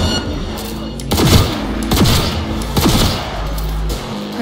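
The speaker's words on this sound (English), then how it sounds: "Heard shots. You still alive?" Bursts of gunfire in the video game Cyberpunk 2077, several rapid volleys of shots close by, loud and punchy, with in-game voices heard in between.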